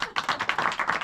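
Comedy club audience in Rennes claps in a dense, steady patter of many hands, a short close burst of applause with no talking over it.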